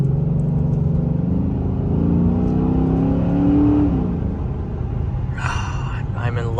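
A 2007 Chrysler 300C SRT8 with a Hemi V8 rumbles deep and loud from inside the cabin, its pitch climbing as the engine revs up, then settling back; a person talks over it.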